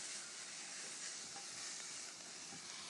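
Smoked sweet paprika sizzles in hot chorizo drippings as a spoonula stirs it, a steady close bright crackle holding evenly throughout with no talk.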